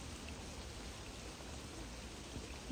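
Steady rain falls over a private lake near Hampshire during fishing, a faint continuous hiss of drops spread evenly with no pauses and no voices.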